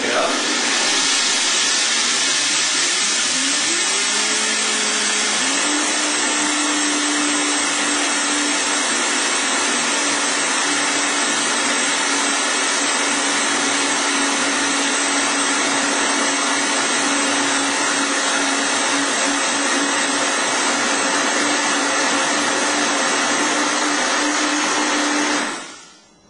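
A Vitamix blender grinds grain into gluten-free flour, starting at low speed and then ramping up into a loud, continuous roaring whir that holds steady before cutting off at the end.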